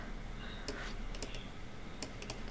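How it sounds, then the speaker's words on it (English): Mouse or pen clicks from drawing on a computer during a livestream: a handful of sharp, close clicks, some in quick pairs, spaced irregularly over a steady faint room hiss. "I don't know how loud this clicking is"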